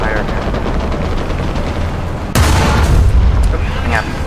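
A Leopard A1A1 tank cannon fires in a video game, one loud, near boom that cuts through steady engine rumble and leaves a rolling tail, with talk heard over the din.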